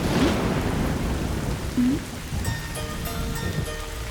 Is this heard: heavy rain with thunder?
yes